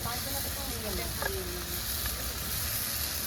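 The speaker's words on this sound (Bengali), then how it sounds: "একটু ভালো করে আলুগুলো আর মশলার সাথে কষিয়ে নিচ্ছি" Fried potatoes sautéing with masala in a pan, making a steady close sizzle and hiss, with some stirring noise and a person talking over it.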